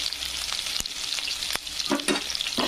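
Onions fry in a pan for a drumstick pod recipe, giving a bright, continuous close sizzle broken by sharp clicks and scrapes of stirring.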